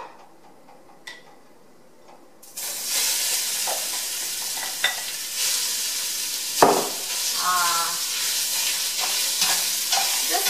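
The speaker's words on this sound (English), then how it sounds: "We're going to add the meat first and brown it for about 5 minutes." Meat for posole drops into a pan coated with a thin film of hot oil and begins browning. After a quiet start, a loud, steady sizzle erupts and continues with occasional stirring clatters.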